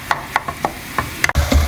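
Minced meat fries in a pan for a Greek pasta sauce while a utensil stirs and chops it, giving a run of sharp scraping taps over a soft sizzle, ending in a louder clatter.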